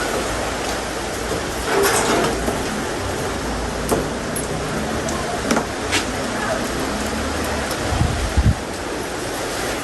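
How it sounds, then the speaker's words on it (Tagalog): Intermittent rain falls on a rooftop as a steady, dense hiss that fills the whole stretch, with a few louder taps and bumps scattered through it. "Grabe naman po yung panahon, paulan-ulan."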